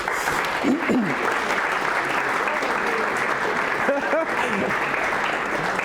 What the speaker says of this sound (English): please, massive big round of applause for these guys